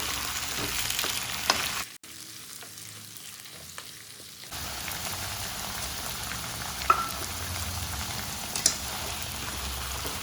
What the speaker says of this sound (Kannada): ಟೊಮೊಟೊ ಈರುಳ್ಳಿ ಬೆಳ್ಳುಳ್ಳಿ ಎಲ್ಲ ಫ್ರೈ ಮಾಡ್ಕೊಳ್ಬೇಕು ಟೊಮೊಟೊ ಕೂಡ ಸೇರಿಸಿದ್ದೀನಿ ಚೆನ್ನಾಗಿ ಫ್ರೈ ಮಾಡ್ಕೊಳ್ಬೇಕು ಎಣ್ಣೆಯಲ್ಲಿ